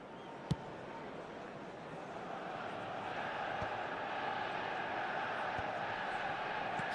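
A stadium crowd in the eFootball video game roars in a broad, steady wash that swells slightly partway through, with a sharp thump early on.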